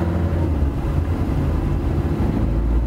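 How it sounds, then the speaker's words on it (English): Steady low engine drone heard from inside a Tata Zest car, a constant rumble filling the cabin with no voices. "There is a degree of engine noise inside the cabin."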